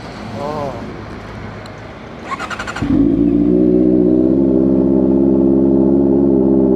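A KTM Super Duke motorcycle fitted with an Arrow full exhaust system starts up after a brief crank, then settles into a loud, close, steady idle rumble; a voice speaks briefly before the start.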